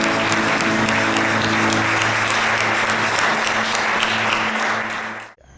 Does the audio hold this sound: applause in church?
yes